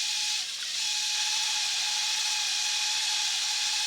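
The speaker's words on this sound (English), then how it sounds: "Remember, you got to run the drill in reverse." An electric drill running in reverse to prime the oil system of a 1962 Studebaker GT Hawk V8 gives a steady high whine with a hissy edge, close and constant after a brief dip at the start.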